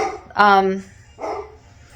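A pet dog barks indoors in a relaxed home setting, two short close barks about a second apart, the first loud and harmonic, the second softer, with a quiet room behind.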